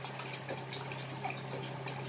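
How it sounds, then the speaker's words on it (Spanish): Bottled natural water pours into a cooking pot to be heated for boiling rice, a soft, steady trickle and splash heard faintly over a low background hum. "pongo agua de botella natural para hervir"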